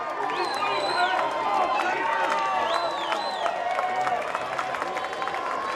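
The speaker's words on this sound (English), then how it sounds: "the combo of the 2 RBI single and the hit batter has energized this crowd to our right" Crowd at a high school baseball championship game cheering and clapping after a two-run single, a steady roar of voices with whistles and shouts, heard at a distance under play-by-play commentary.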